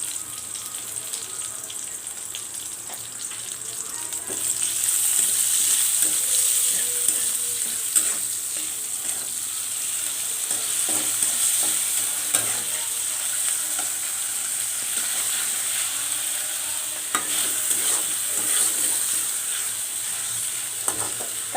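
Spices crackle and fry in reused oil for a pumpkin greens bhaji, giving a steady bright hiss of sizzling that holds for about twenty seconds, with occasional faint clatter of utensils nearby.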